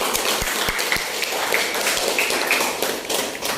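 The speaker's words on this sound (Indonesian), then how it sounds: "Kita berikan tepuk tangan ya" Scattered hand claps from a classroom of students during a chemistry lesson, sharp individual claps standing out over a dense, steady patter that holds for a few seconds.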